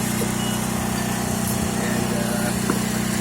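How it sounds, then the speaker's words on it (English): A Ryobi sander runs steadily, giving a close, continuous buzzing motor drone with a fine rattling texture and no pauses. "Got a sander."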